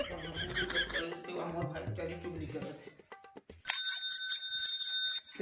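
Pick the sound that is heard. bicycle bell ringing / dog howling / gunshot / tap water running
bicycle bell ringing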